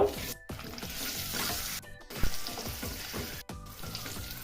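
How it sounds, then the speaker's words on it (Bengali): Eggs frying in hot oil in a kadai, with a loud continuous sizzle and crackle close by, punctuated by occasional stirring or turning sounds and brief dips in the hiss. "ডিমগুলো ভাজার জন্য দিয়ে দিব"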